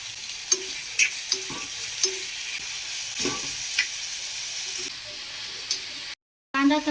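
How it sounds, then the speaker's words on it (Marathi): Chopped onion and tomato frying in a pan for a Marathi potato curry, with a soft steady sizzle, a few scraping stirs and clicks, and a brief louder burst near the end. "कांदा टमाटर तळत आहे"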